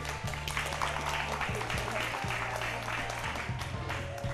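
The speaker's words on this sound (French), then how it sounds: "On applaudit pour lui." A short burst of clapping from a small group, steady and moderately loud, with a low musical drone underneath.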